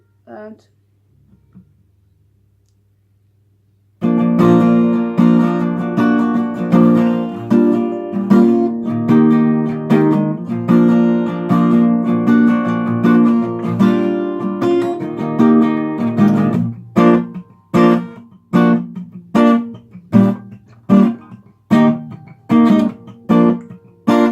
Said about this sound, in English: you just play the strumming pattern again for the last 2 chords